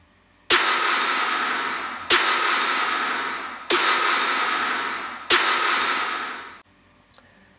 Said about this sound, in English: this is like a clap layered with a snare layered with a triangle